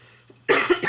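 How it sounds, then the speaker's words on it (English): A short burst of coughing from a person getting over a cold, two or three quick hacking coughs close to the microphone after a moment of near silence. "excuse me for the coughing"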